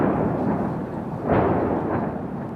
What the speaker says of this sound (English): As you can hear, there's pretty incessant shelling since we've got here.